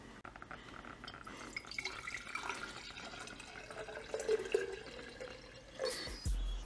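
Water trickles and splashes into a glass container, a steady liquid pour with faint glassy ringing, ending in a louder rush near the close.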